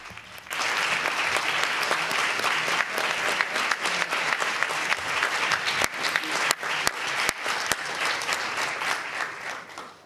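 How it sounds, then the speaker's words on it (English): An audience at a film festival press conference bursts into sustained applause, dense clapping from many hands lasting several seconds before tapering off, with a few louder claps standing out. "And a big round of applause for Claire Denis, one of the great directors of contemporary cinema."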